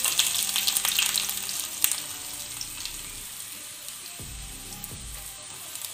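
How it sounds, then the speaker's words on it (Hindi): Ginger garlic paste fries in hot oil with cumin, stirred with a spoon: a steady close sizzle that softens partway through, with a few scrapes and clinks of the spoon and no voices. "और ये अदरक लहसुन का पेस्ट. और हम इसको चम्मच से हिलाएंगे"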